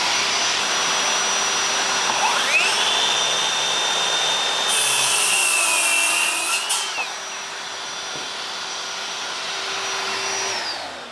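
A steady, loud motor whine of a Ryobi ONE+ HP 18V brushless cordless 7-1/4 in. circular saw cutting wood with a vacuum running alongside, a high tone rising and falling mid-cut, no talking.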